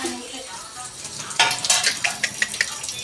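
Chapatis and vegetables cooking on a home stove, with soft stirring and faint sizzling followed by a series of quick utensil clinks and scrapes against the pan.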